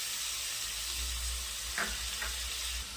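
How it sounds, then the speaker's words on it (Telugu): Tomato pieces fry with onions and ginger garlic paste for a chicken gravy curry, giving a steady close sizzle with a couple of faint stirring scrapes. "టమాటా ముక్కలు బాగా కుక్ అయ్యేంత వరకు ఫ్రై చేసుకోవాలి."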